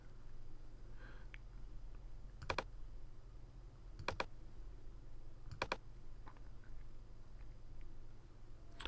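Crisp computer mouse clicks, single and paired, come at spaced intervals over a quiet low hum, close and fairly faint.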